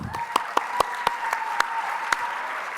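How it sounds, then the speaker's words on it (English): Audience applause at the livestreamed "A Night to Inspire" charity gala, a steady wash of many hands clapping with a few sharper, louder claps standing out at regular intervals, sustained throughout and with no talking. "give yourselves a big round of applause"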